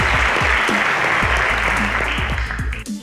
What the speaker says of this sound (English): A round of applause for Adedokun International School.